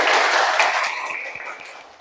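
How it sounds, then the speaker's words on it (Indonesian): A classroom of schoolchildren clapping together for a short burst, a dense patter of many hands that fades gradually over about two seconds. "Tepuk tangan dulu buat kita."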